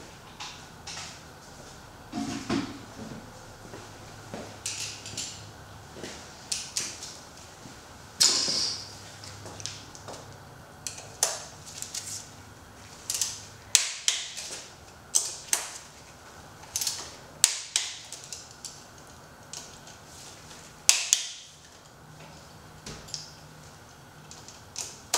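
A torque wrench ticks and clicks repeatedly while a fuel line assembly is tightened, sharp close mechanical clicks scattered unevenly over a quiet background with a faint hum.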